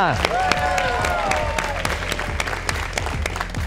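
A crowd claps warmly in sustained applause for the Lalonde family, with a few sharp standout claps, some cheering and a voice speaking over the noise.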